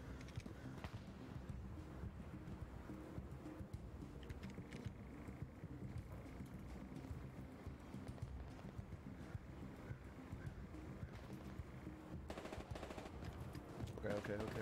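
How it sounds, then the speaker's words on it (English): Distant gunfire in the World War II shooter game Hell Let Loose, faint scattered shots and bursts under a steady ambient wash throughout, with no voices. "I do hear some shots over to northwest."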